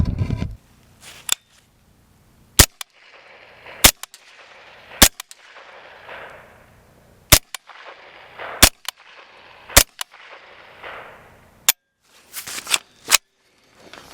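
Suppressed AR-15 rifle fired outdoors in about a dozen sharp, spaced shots, each a crisp crack followed by a decaying echo, loud and close with no talking.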